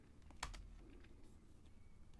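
Quiet keystrokes on a computer keyboard while writing Python code, a handful of soft irregular clicks with one sharper tap early on, close but faint over a low steady background.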